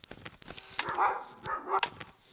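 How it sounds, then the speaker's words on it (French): Dog barking in the video game Dordogne, several short, sharp barks and yips in an uneven run, mid-distance and moderately loud, over faint clicks and background sounds. "les aboiements de merde du chien"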